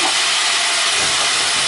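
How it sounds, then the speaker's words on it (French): White wine hits a hot pan of quail, giving a loud, harsh, continuous sizzling hiss close up throughout. "on va déglacer avec 10 centilitres de vin blanc"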